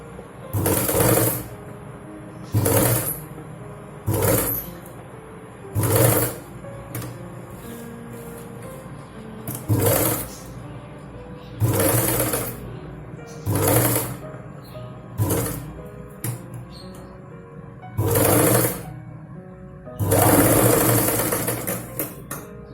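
A sewing machine stitches piping onto a Punjabi dress in about ten short, loud bursts of rapid mechanical whirring, each separated by brief pauses.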